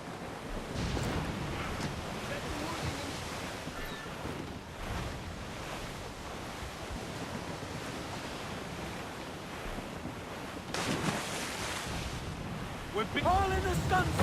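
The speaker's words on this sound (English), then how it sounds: "This is a storm." Storm at sea in Assassin's Creed 4 Black Flag: constant roar of wind and big crashing waves around a sailing frigate, with surging swells and faint creaks near the end.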